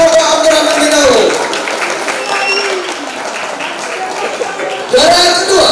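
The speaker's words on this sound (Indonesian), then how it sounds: "Berikan tepuk tangan untuk kelompok Abdurrahman bin Auf" Loud, sustained applause from a crowd celebrating the first-place team at a new students' quiz competition at an Islamic boarding school, with voices talking over it throughout.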